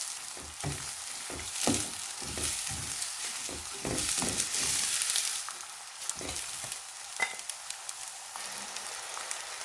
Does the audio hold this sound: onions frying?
yes